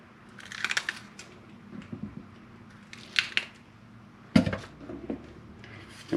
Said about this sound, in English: I'm going to cut the pith out.